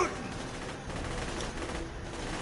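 Gunfire from a looter-shooter fantasy game, Tiny Tina's Wonderlands DLC, a steady wash of rapid shots with a louder burst at the end, fairly quiet and dense throughout.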